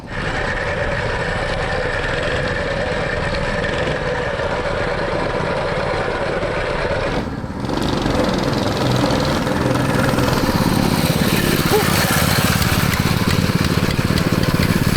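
The engine of a drifting mini bike runs with the choke on, a loud, steady, close buzzing drone that briefly cuts out halfway, then returns slightly louder and rougher.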